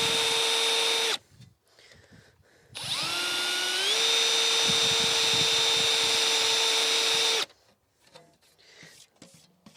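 A rotary tool grinds the head of an Airstream aluminum rivet flat, a loud high steady whine starting after a short burst, rising in pitch, holding several seconds, then cutting off, with quiet handling noise around it.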